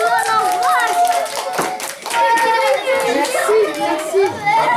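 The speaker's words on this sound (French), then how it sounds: "Je vais m'arrêter là. On peut applaudir." School pupils in a French classroom applauding at the end of a talk, bursts of clapping mixed with lively children's chatter and voices throughout.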